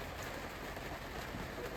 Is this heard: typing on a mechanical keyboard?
no